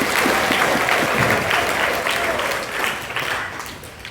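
A church congregation at an Ash Wednesday service breaks into loud, sustained applause, many hands clapping together before the sound gradually thins toward the end.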